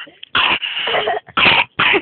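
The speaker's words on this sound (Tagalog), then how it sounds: "Anong umubo pa." A few harsh, bursty coughs, close and loud, separated by short pauses.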